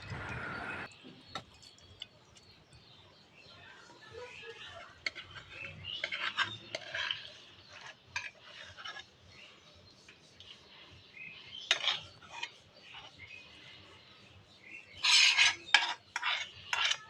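Cooked pumpkin and puti fish curry scooped from a pan into a bowl, a series of soft scraping and clinking spoon-on-metal sounds in irregular bursts, quiet and close, with no speech.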